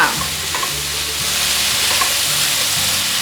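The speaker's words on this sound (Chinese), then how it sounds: "现在放入小黄瓜， 继续翻炒" Cucumber sizzles in a hot wok with sweet peppers in a vegan home-style stir-fry, a steady loud hiss of frying broken by the scrape and clatter of the spatula tossing the pieces.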